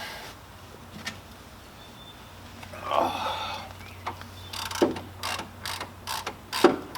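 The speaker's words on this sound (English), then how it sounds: "I'm using a 1/2 inch drive or a 1/2 inch ratchet" A half-inch drive ratchet turns a 17 mm bolt while working on a 1976 Chevy C10, giving a run of short, sharp clicking bursts in uneven rhythm, close and fairly loud over a quiet workshop hum.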